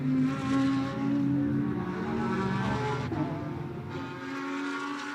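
GT America race cars run along the front stretch at Indianapolis, their loud engines making a continuous droning roar that echoes off the grandstands. The roar swells and shifts as cars pass, then thins briefly near the end.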